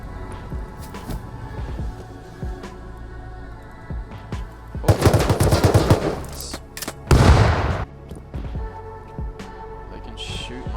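Gunfire in the survival game Rust: scattered single shots early, then two loud, dense bursts of rapid automatic fire, with quieter pops trailing off afterward.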